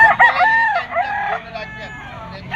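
A gamefowl rooster crows close by, one loud, drawn-out cock-a-doodle-doo followed by a shorter trailing call.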